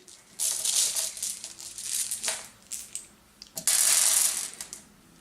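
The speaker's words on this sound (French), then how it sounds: "On va tirer maintenant 7 dés." Dice rattle and clatter as seven are drawn from a bag and handled during the Lucidity board game, with bursts of plastic clicking and shuffling, close up, with one louder jumble near the end.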